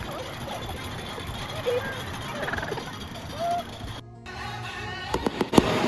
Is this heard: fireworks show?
yes